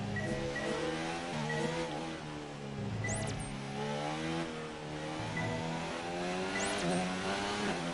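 F1 2019 race car in the video game, driven through the castle section of the Baku street circuit in Azerbaijan, engine note rising and falling steadily through gear changes, loud and continuous with faint tire squeal.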